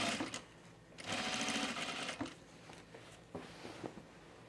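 A sewing machine stitches a blazer in short runs, a fast mechanical rattle rising for about a second at a time with softer pauses between, close but fairly quiet.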